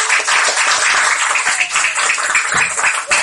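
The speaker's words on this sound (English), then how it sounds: "A big round of applause," Children in a Grade V classroom clap together after a class debate, a loud, dense burst of applause filling the room for a few seconds.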